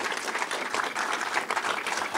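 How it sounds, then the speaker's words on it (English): Brief audience applause in a cinema venue during a civic address, a dense burst of many hands clapping at moderate volume. "Let's give them a big round of applause."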